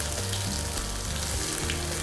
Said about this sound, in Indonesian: Jadi ini digoreng pakai mentega.